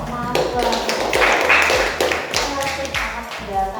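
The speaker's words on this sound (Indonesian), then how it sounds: "Tepuk tangan untuk Salma." Students in a classroom clap together after a classmate's answer during a lesson on honesty, a steady run of hand claps with talk mixed in.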